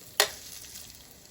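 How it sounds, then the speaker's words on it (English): A sudden sharp burst of sizzling as Parmesan-crusted chicken hits hot oil, settling into a faint, steady frying hiss. "Now you hear some sizzle."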